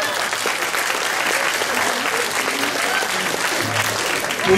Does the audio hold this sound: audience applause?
yes